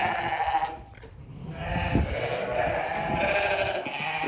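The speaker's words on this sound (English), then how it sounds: "Look at that sheep right there." Sheep bleating on a farm, several loud nearby bleats repeating through the clip with some rustling and animal movement in the background.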